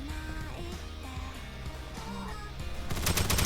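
Gunfire in the Roblox shooter Aimblox while slide-shooting, a burst of rapid automatic shots swelling loudly at the end over a busy game soundtrack.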